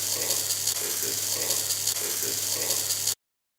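A small DC hobby motor drives a robot wheel, giving a steady whirring, buzzing drone with a low hum and a faint periodic ratchety flutter, running continuously for about three seconds and then cutting off abruptly.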